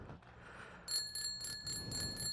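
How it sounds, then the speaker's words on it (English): A small bicycle bell mounted on a 2025 Kawasaki Ninja 500 SE KRT motorcycle rings several times in quick bright dings, close and clear over faint background noise. "my baby bike bell, because it's a baby bike"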